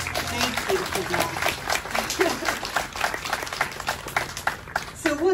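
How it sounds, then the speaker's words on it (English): A worship service congregation claps for the musicians Ryan and Kate, scattered sharp hand claps in an uneven patter at moderate distance, with a voice speaking over the applause. "can we give one more round of applause and thank you to Ryan and Kate for the music"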